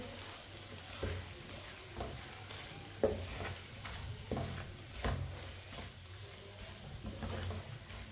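Aloo gobhi with garam masala and fresh coriander being stirred in a pan, a soft steady sizzle broken by a series of scraping spatula strokes at about one-second intervals, close and fairly quiet with no talk.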